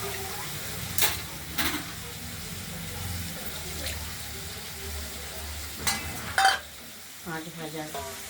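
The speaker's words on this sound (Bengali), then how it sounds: "এবার মশলাটা দিয়ে দিলাম মশলাটা দিয়ে দিলাম কষানোর জন্য" Spice paste fries in oil for a fish curry with a continuous sizzle, broken by several close stirring scrapes and clinks of a utensil against the pan.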